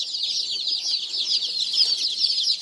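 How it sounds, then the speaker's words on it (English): A box of 51 newly delivered buff Orpington chicks, pullets with a few roosters, peeps continuously in a dense, high, overlapping chorus close by. "We got 51 yellow buff orpingtons."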